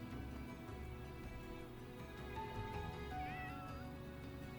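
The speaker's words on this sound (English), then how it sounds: "Hey, kitty!" A cat in the video game Fire Emblem: Three Houses meows a few times over the game's soft background music, high and clear but fairly quiet.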